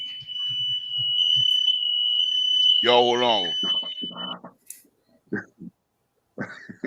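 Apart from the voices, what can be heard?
fire alarm going off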